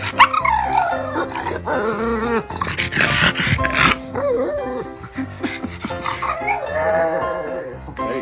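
A dog barks wildly in loud, close, repeated yelps and whining howls that rise and fall, with a voice speaking among the barks.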